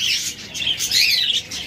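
A pair of lovebirds kept for sale chirps close by in a short burst of bright, rapid, high tweets.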